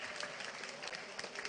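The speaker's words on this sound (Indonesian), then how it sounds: "Tepuk tangan buat Pak Jabir" Brief burst of crowd applause at a South Sulawesi anniversary gathering honoring Pak Jabir, steady and moderately distant.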